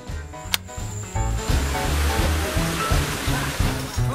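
Water gushes steadily from a newly connected pipe into a mountain village, a continuous rushing flow heard close and loud, with a brief sharp knock near the start and a low murmur of activity beneath.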